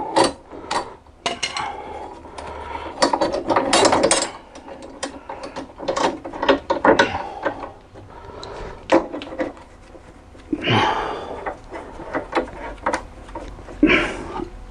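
A hand ratchet tightens the rear shock absorber bolts on a car, clicking in quick, close bursts with pauses and some clanks of tools and parts in between.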